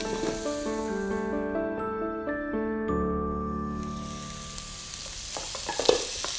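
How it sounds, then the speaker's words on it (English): Chopped onion frying in a pan gives a steady sizzle under sustained musical tones, with a few stirring clatters and taps toward the end. "start your sauce by cooking one roughly chopped onion in the same pan"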